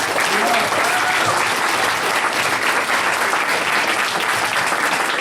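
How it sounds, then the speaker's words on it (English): Audience at a grad night hypnotist show applauds loudly and steadily, a dense wash of clapping from a large crowd that holds at full strength for several seconds without pause. "Another big round of applause."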